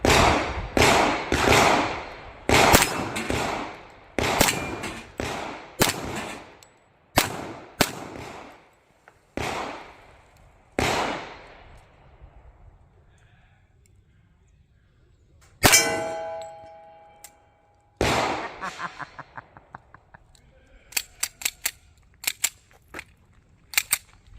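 Shots from a 1911 pistol built from a Fusion Firearms kit on a PSA frame ring off a steel target, a string of sharp cracks, each followed by a metallic clang. There are pauses between shots, then a few lighter rapid taps near the end.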